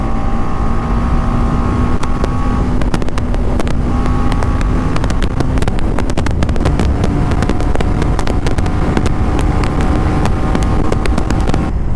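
A BMW G310 GS motorcycle accelerating hard in sixth gear for an overtake, its engine droning loud and steady under heavy wind rush throughout.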